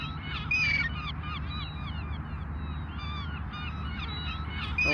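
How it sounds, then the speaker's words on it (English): Seagulls call repeatedly over a steady wash of surf on Yanbu Beach in the morning, with overlapping cries near and far. "I think these are seagulls."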